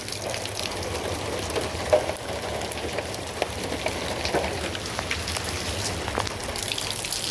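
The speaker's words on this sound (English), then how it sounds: "So I have this container and it is raining." Rain falling outdoors, a steady soft patter of drops on surfaces with occasional louder splashes and a faint gushing of runoff, moderately quiet and continuous.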